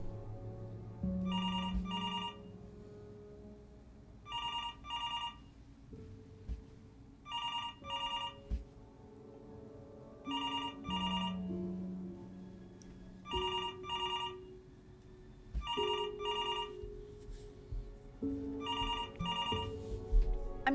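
Telephone bell in the video game Before Your Eyes rings in repeated paired bursts, about seven rings spaced evenly across the stretch, loud and clear over a low, sustained musical score with no talking.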